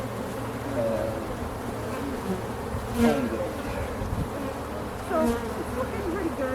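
Honey bees buzz around an opened hive in a steady, close insect hum, with a few louder passes as bees fly near, while people talk quietly during the hive inspection.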